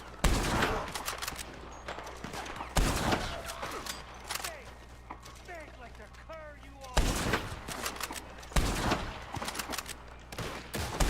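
Bursts of gunfire from a Red Dead Online shootout, several loud volleys of rapid shots separated by quieter stretches with scattered ambient game sounds and birdlike chirps between them.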